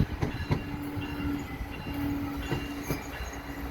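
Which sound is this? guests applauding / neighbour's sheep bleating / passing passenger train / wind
passing passenger train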